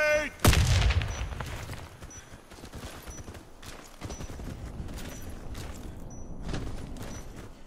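A grenade detonates loudly and close in the online shooter Warface, a sharp booming blast with heavy low rumble, followed by scattered gunfire and game noise.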